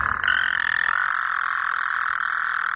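A bunch of frogs croak in a dense, steady chorus that holds without pause for the whole stretch, fairly loud and close.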